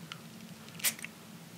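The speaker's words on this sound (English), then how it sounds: "So I'm going to take one spray." A single quick spray of Dua Pomme Trempée fragrance gives a short, close hiss near the middle of an otherwise quiet moment.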